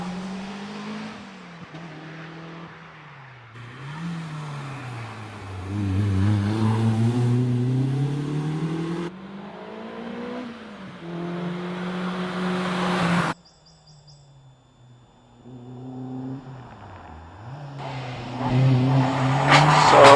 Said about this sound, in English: Away goes the Mitsubishi